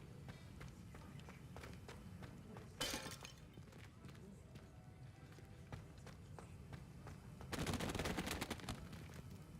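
Books fall in the Hogwarts Legacy video game, with two loud clattering crashes, one short and one longer, cutting through a busy background of small knocks and footsteps.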